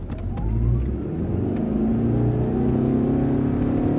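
A Toyota car engine in sport mode revs and accelerates hard, its pitch climbing steadily as it pulls away, loud and close with road noise underneath.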